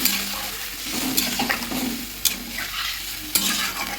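Cauliflower curry with spices simmering and being stirred in a pan, a steady close sizzle broken by a few sharp scraping clacks of a utensil, with no talking.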